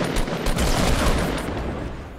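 Rapid gunfire in Fortnite, a dense burst of overlapping shots that crack loudly for about two seconds, a sharp fusillade with no talk over it.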